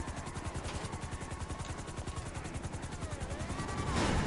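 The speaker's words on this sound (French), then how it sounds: "Mon hélico!" A helicopter in the video game GTA 5 gives off a steady, fast-thumping rotor pulse with broad engine roar, holding at a fairly constant level and swelling louder toward the end.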